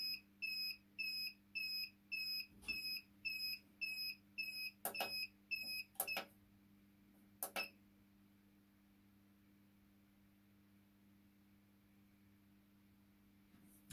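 A heat press machine emits a regular series of short, sharp electronic beeps while the press lowers, about nine evenly spaced pulses, then a few louder clicks and thumps before falling quiet over a low steady hum.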